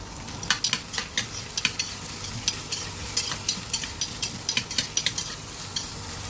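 Spices and a medium-sized onion fry in a pan for vegetable pulao, giving a steady sizzle broken by a string of sharp scraping stirs close by, with no talking.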